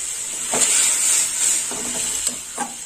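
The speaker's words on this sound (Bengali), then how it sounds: "এবার চাল কুমড়োটা ঢেলে দেবো।" Ash gourd tips into a hot pan with a steady sizzle, broken by a few short scraping stirs and clinks near the mic, with no voices.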